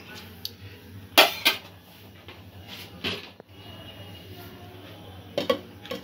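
Metal pot lid clatters onto a pot of carrot pulao on the stove, several sharp clinks and knocks of metal cookware spread across a quiet kitchen.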